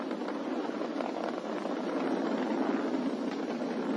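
SpaceX Falcon 9 rocket roaring steadily through its supersonic climb past Mach 1, a continuous loud broadband rumble with no breaks and no voices.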